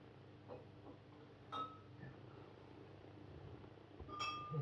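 A beer glass from a home collection is handled, giving two distinct clinks, one early and one near the end, each sharp and close over a quiet room hush.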